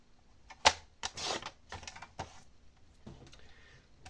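Paper being cut while making a vintage ATC scrapbooking card: a few quiet, short snipping and crisp cutting strokes at irregular intervals in a quiet room, with no talking.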